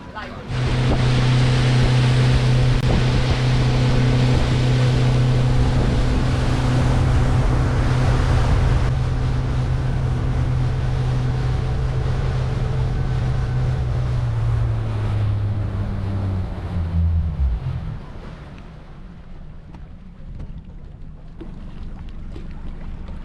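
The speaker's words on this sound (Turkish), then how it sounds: "Şimdi teknemize geldik yine basıyoruz güzel koylara." A boat motoring across the sea along a coast of bays, its engine a loud steady drone with water rush and wind over it, fading down toward the end as the motor slows.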